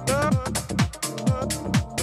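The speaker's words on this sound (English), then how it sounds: "Now let's add in a little vocal chop." Vocal chop sample in Ableton transposed down five semitones to C, a short chopped voice phrase repeating in a steady rhythm with tonal harmonics and regular sliding accents.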